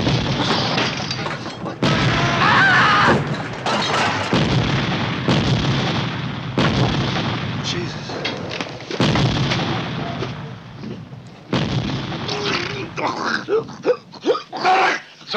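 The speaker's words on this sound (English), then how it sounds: "Mortars." Mortar rounds landing in a battle scene from the 1979 war film The Odd Angry Shot, a series of heavy booming explosions and blasts, loud and close, with shouting voices between the impacts.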